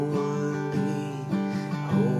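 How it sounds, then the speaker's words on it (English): Guitar strumming the chord progression for the chorus of the worship song Yahweh, a steady run of chord changes heard alone at moderate, somewhat soft level. "The chorus will sound something like this."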